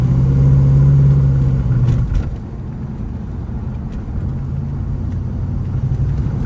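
A 1972 Plymouth Roadrunner engine drones while driving in traffic: a strong, near engine tone that eases off after about two seconds, leaving a steady rumble of engine and road noise that swells slightly again toward the end.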